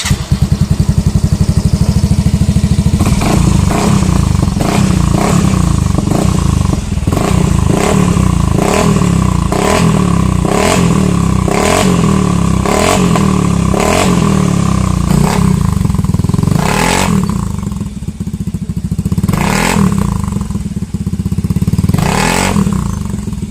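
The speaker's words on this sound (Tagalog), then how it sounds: "ang sound check ng ating GT68 sa Mio i125" A Yamaha Mio i125 scooter fitted with a GT68 aftermarket exhaust pipe revs loudly up close in a repeated series of throttle blips, then settles toward a rough idle with a few last short revs, no talking.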